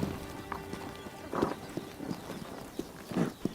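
Hooves of a wild horse in Mongolia, a few soft irregular thuds and clops at a distance over a faint, steady background hum.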